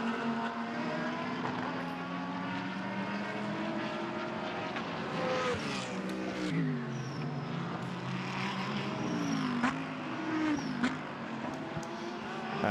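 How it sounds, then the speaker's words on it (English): A Porsche Cayman GT4 race car laps Sepang circuit in a GT qualifying session. Its engine note rises and falls as it passes at some distance, and other cars are faintly audible behind it. No one speaks. "that's another of these very, very popular Cayman GT4s"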